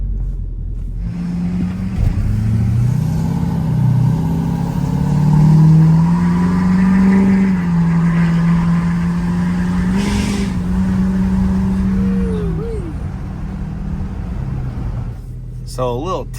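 A Ford 6.7 Powerstroke diesel truck revs hard through a burnout, its engine rising and holding a loud, strained drone before dropping off, close by, with brief talk near the end.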